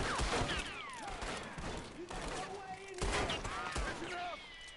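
Gunfire rings out in Red Dead Redemption 2 during a train takedown, with repeated rifle and pistol shots cracking in overlapping bursts amid a busy game soundscape, accompanied by voices and other mechanical noise.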